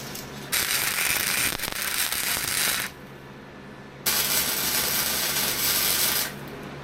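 Two sustained bursts of steel tack welding on a tractor bucket, each a loud, close, crackling hiss lasting a few seconds with a short quiet gap between them.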